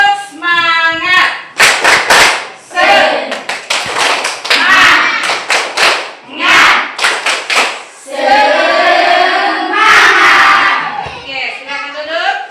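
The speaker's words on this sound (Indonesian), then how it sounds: "Tepuk semangat." Primary school students in a classroom ice-breaker do a rhythmic group spirit clap, loud bursts of patterned hand claps in quick sequences with pauses, close and lively, with voices chanting along between the claps.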